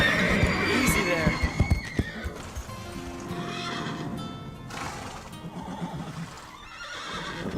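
Animated horses whinny and neigh loudly nearby, with a burst of clopping hooves and stamping early on and restless snorts throughout.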